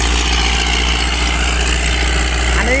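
A tractor engine runs steadily at close range, a loud continuous low hum and throb with a faint whine rising near the end, and no talking over it.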